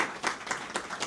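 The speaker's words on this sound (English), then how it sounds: "Round of applause, please." An audience applauds at a conference talk, a brief, fairly faint spatter of hand claps in loose bursts roughly a quarter second apart.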